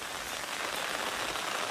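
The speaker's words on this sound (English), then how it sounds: "It's raining, and I'm under an umbrella." Rain pattering on an umbrella overhead, a dense, close, continuous hiss of drops hitting the canopy, steady and even, with no talking.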